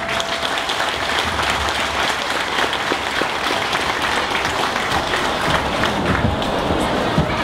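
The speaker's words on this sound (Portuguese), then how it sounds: "Para quem eu peço mais uma ronda de salva de palmas." Crowd at a school inauguration ceremony applauds continuously and fairly loudly, a thick rush of clapping that holds steady for over seven seconds with faint murmuring beneath.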